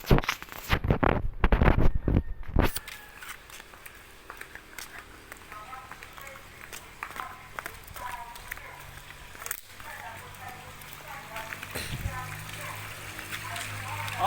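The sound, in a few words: natural water flowing and splashing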